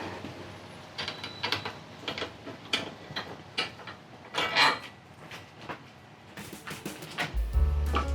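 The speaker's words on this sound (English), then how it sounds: "So I'm gonna take this bolt off." Metal bolt being unscrewed from a Givi PL4121 saddlebag rack on a Kawasaki Versys 300, giving a run of close, irregular ratcheting clicks and scraping ticks with a heavier clunk near the end.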